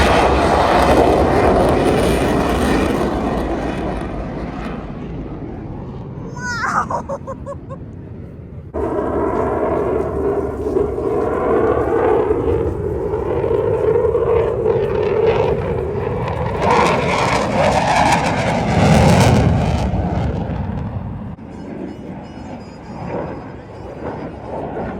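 A Sokol medium-sized twin-engine multi-purpose helicopter at the Royal International Air Tattoo air show gives off a loud, sustained engine roar with a shifting pitch and a brief dip partway through.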